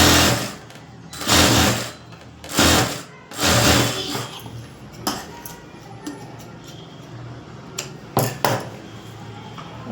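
A sewing machine runs in several short, loud bursts of fast stitching on a blouse, separated by quiet pauses and a few sharp clicks and knocks near the end.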